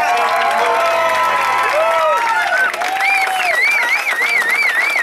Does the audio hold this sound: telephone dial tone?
no